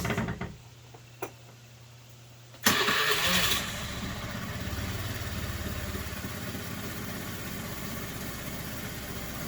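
A Honda Elite 110 scooter engine cranks and catches after a quiet stretch, then settles into a steady, fairly close idle that runs on to the end.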